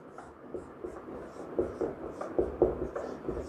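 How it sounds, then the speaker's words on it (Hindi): Chalk or marker scratching out a topic name on a classroom board, a quiet run of short irregular strokes and taps that build toward the end, with no talking. "सबसे पहले टॉपिक का नाम लिख देते हैं"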